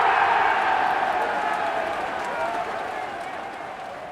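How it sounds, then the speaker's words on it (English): Studio audience applause and cheering greeting a guest on a podcast, a steady broad wash of clapping that fades slightly over about four seconds. "big round of applause for my next guest"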